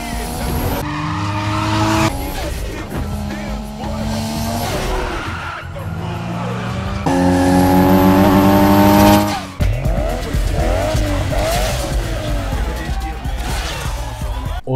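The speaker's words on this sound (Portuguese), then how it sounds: "O som do Nissan Skyline R34 do Brian em Mais Velozes e Mais Furiosos." Nissan Skyline R34 in the racing game Need for Speed Underground 2, its engine roaring loudly as tires squeal and skid through hard turns, with the revs climbing and dropping over a continuous run of in-game driving.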